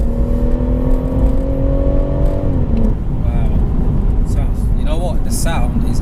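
A BMW M140i Shadow Edition's engine drones loudly from inside the cabin, the rising tone climbing then dropping as it shifts, under continuous road noise, with people talking over it.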